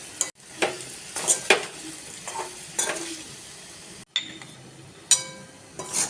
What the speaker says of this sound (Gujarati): તેની અંદર મસાલા ઉમેરીશું અને તેની પણ સારી રીતના મિક્સ કરી લઈશું